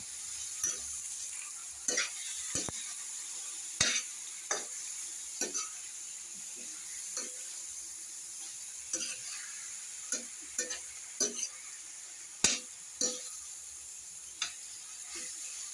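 Pork meat sizzles in a pan with garlic and onion, a steady soft frying hiss broken by repeated scraping clicks of stirring, fairly quiet and close, with no talk.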